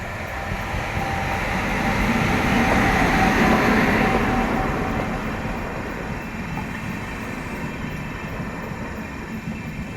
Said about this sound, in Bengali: ট্রেন ঢুকতেছে জঙ্গলের রাস্তা